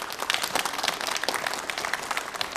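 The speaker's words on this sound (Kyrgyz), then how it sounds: "Кол чабалар." Audience applause at a Kyrgyz talent show, a steady patter of many hands clapping at moderate loudness for the whole stretch, without talk.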